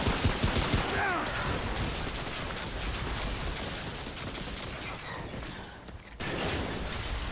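Turret gunfire in Remnant: From The Ashes, a loud continuous rattle of rapid shots and mechanical clatter that dips briefly near the end before resuming.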